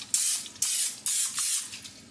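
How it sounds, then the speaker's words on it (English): Cooking spray is sprayed into a 2-quart baking dish to grease it for a zucchini casserole, four close hissing bursts, each about half a second long, with brief gaps between them. "I'm just gonna spray it."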